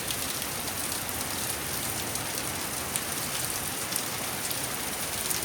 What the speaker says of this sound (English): It is pouring down rain.